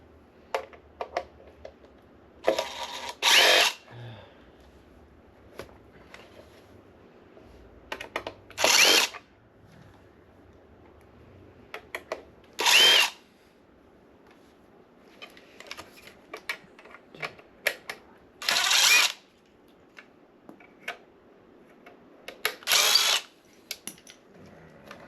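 A power drill whirs in about six short bursts while backing screws out of electronic power supplies, with light clicks and handling clatter between runs and no speech.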